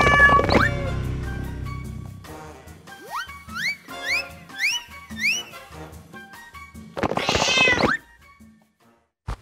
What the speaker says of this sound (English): a cat chaotically enters the Dino planet